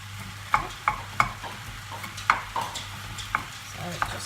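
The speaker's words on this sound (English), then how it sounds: "You can hear it sizzling now." Lasagne meat sizzles and browns in a pan beneath a series of sharp scraping clinks from a utensil stirring, repeated at irregular intervals.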